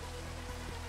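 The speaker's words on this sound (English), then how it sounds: "It's raining a little." Rain falling in Minecraft, a soft, even hiss of steady drops that runs through the brief moment without a break.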